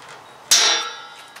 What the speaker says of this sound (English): before we drill them we're going to go ahead and use a punch